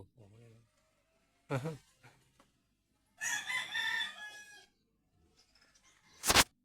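A fighting rooster crows loudly amid other farmyard noises in a narrow alley, with a few brief voices speaking nearby between the calls.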